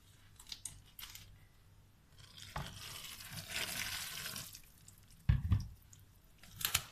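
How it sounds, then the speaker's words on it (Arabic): White cement mixed with water is stirred into a wet, thick mixture with a scraping, squelching rhythm, a few sharper knocks and slaps between strokes, close by with no talking. "ونفضل نقلب لغاية ما تبقى سمكه معانا"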